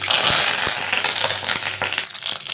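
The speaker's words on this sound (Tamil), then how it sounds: "எண்ணெய் வந்து நல்லா சூடாயிடுச்சுங்க கொஞ்சமாக கடுகு காஞ்ச மிளகா சேர்த்துக்கிறேன் அது கூடவே கருவேப்பிலை சேர்த்துக்கிறேன்" Mustard seeds, dried chilies and curry leaves crackling and sputtering in hot oil for a Nagercoil-style paruppu curry, dense close sizzle broken by sharp pops, with no talking.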